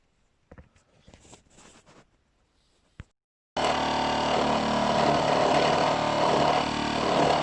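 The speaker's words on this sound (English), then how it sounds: "Just slowly boring through with a 3/4 inch cutter." A milling machine bores a hole through a workpiece with a 3/4 inch cutter, parts for a 2-inch scale Fowler showman's traction engine; a few faint clicks and handling sounds lead into a loud, steady broadband machining roar that runs to the end.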